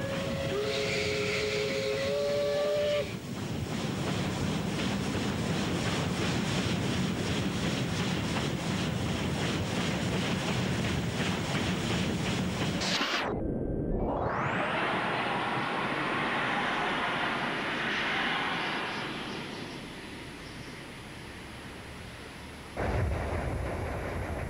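The Rheingold train rolls past on the Rhine line with a loud continuous rumble and wheel roar, a whistle tone at the start, a sudden gap as it passes, then a sustained high squeal fading out.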